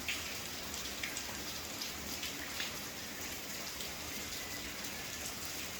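Steady rain falls and patters evenly on surfaces as a dense, continuous wash of drops, moderately loud and without a pause, with no voices.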